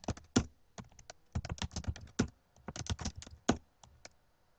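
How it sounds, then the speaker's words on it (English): Keyboard shortcuts such as Control+Spacebar and Alt E D are tapped on a computer keyboard in quick clusters of crisp, close key clicks, with brief pauses between them. "highlight the entire column, which is Control Spacebar, and Alt ED."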